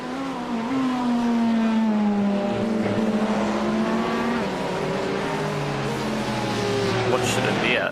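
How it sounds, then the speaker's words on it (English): Race car engine in the iRacing sim at the Bathurst 12 Hours, droning steadily with rising and falling revs throughout, loud and continuous under occasional talk. "Engine doesn't sound like it's getting as wound up."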